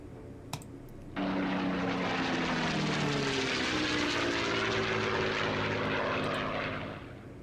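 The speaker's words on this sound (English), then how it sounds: "Seven B-52s take off from Barksdale Air Force Base in Louisiana." B-52 bombers taking off from Barksdale Air Force Base in Louisiana, a deep engine roar that swells suddenly and sustains loudly for several seconds before easing, with no voices.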